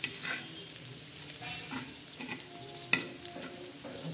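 Egg bhurji with green chillies and onion fries in a pan, a steady soft sizzle with a spoon scraping and stirring in scattered close clicks and taps.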